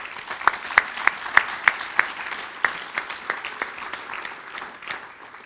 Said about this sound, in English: Please help me thank them with a round of applause.